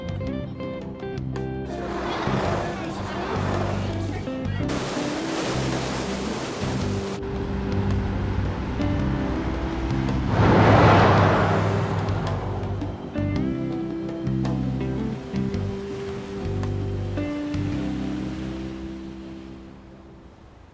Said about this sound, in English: Oh man! The ocean is so blue!